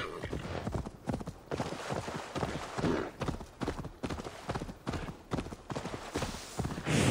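Steady clip-clop of horse hooves trotting at a regular rhythm in the video game Assassin's Creed Valhalla, close and fairly loud, continuing throughout without pause.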